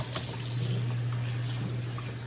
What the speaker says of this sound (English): See, I'm moving the water around.